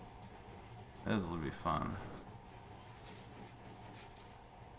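A monorail train running in the video game Metro: Last Light, a steady low rumble underneath a brief spoken line.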